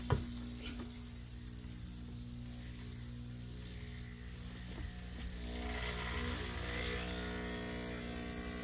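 A Breville espresso machine runs after a water pump replacement, giving a steady hissing, buzzing drone that swells slightly louder partway through, following a brief click at the start, with no voices.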